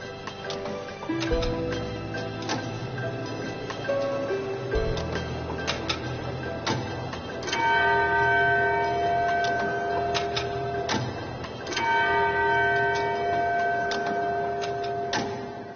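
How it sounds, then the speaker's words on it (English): An old faceless clock with an hourly gong bell ticks in a steady, evenly spaced rhythm, with sustained tones ringing underneath and occasional louder resonant strokes, heard close and alone. "The intriguing thing is, there isn't any clock face on this clock."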